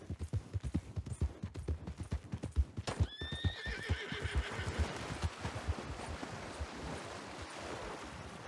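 Horse hooves clip-clop in a steady, close rhythm in Red Dead Redemption 2, a horse whinnies partway through, and the hoofbeats carry on over a soft wash of background noise.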